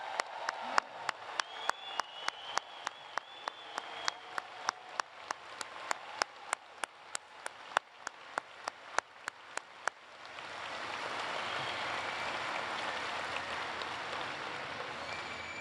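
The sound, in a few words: audience applauding graduates at commencement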